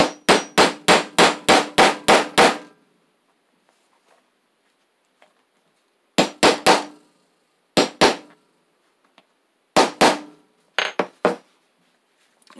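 Sharp hammer blows on a metal grommet punch ring out close by: a rapid run of about eight strikes, then pauses and several shorter bursts of two to three hits.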